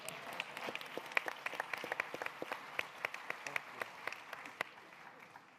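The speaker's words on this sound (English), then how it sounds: "Let's give her a round of applause" Scattered clapping from an audience at a lottery drawing, with distinct individual claps over a softer crowd wash, fairly quiet and fading slightly at the close.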